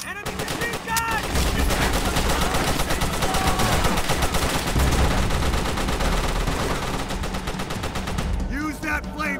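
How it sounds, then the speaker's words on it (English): Dense, sustained machine gun fire and gunshots from enemy positions in the Call of Duty: World at War campaign mission "Hard Landing", rapid bursts rattling continuously under a brief shouted warning. "Enemy machine gun!"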